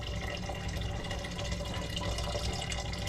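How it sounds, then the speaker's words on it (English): Tap water runs steadily into a pot filled to heat on a non-electric stove, a soft, constant splashing hiss heard fairly quietly and alone. "now what I'm doing is I'm filling up the water to heat it on the stove"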